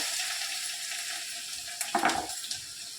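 Garlic cloves and asafoetida hitting hot oil in a kitchen pan, a steady broadband sizzle with a brief louder crackling burst near the end, close and alone with no talk.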